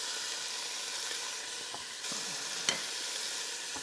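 Bacon strips fry in a pan with a soft, steady sizzle and hiss throughout. A few faint clicks and a brief louder crackle come through, with no talk.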